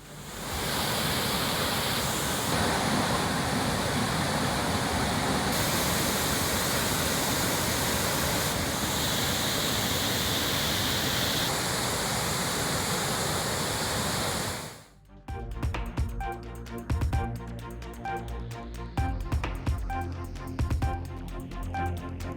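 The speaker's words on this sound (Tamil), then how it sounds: "திருப்பரப்பு அருவியில் தண்ணீர் ஆர்ப்பரிப்பதால்" Floodwater roars steadily at Thiruparappu waterfall, swollen after the Kodaiyar river overflowed, a loud dense rush lasting about fifteen seconds before cutting abruptly to quieter, unrelated sound.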